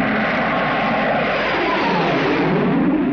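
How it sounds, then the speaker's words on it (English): A steady, loud helicopter engine drone fills the air, a continuous rumbling roar as it flies overhead above a motorcade. "The Spectrum helicopter is overflying the motorcade."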